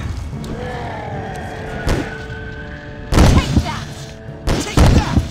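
Gunshots from a handgun in the survival horror video game Obscure, two loud, sharp bursts near the end with a softer thump earlier, set over a low droning in-game ambience with no talk.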